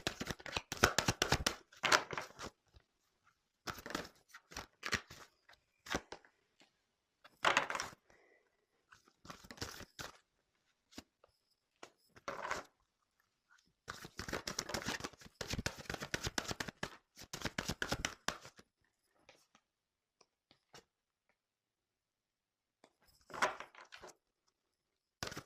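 Tarot cards being shuffled and drawn, heard as bursts of papery riffling and flicking in separate clusters with quiet gaps between them, close and fairly soft, with no talking.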